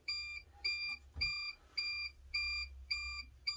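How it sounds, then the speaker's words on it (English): Electronic beeping from a tumbler heat press up to temperature, a steady series of evenly spaced high-pitched beeps repeating about every half second, with a brief thump partway through. "I won't stop beeping"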